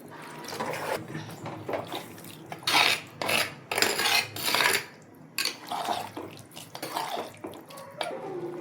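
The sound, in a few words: water poured into cooking pot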